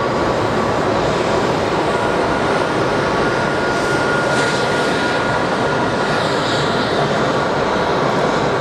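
At Geneva Airport, an aircraft makes an intersection departure, its engines a loud, steady broadband roar holding throughout, with no speech.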